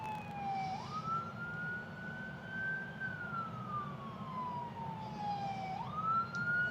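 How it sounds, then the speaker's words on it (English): An ambulance siren wails in slow rising and falling sweeps over steady road noise heard from inside a Tesla, loud and close, with no talk. "We got an ambulance coming somewhere"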